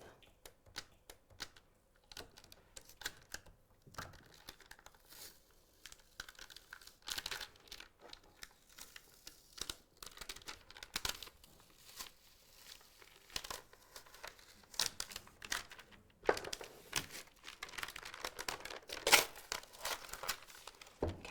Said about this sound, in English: Go ahead and slowly remove that transfer tape.